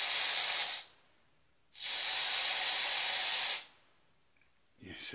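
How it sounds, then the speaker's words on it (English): Two long bursts of aerosol spray hissing loudly and close by, sprayed over a PC at a spider, separated by a short silence, followed by a fainter third hiss and a brief bump. "I'm just spraying it all over the PC."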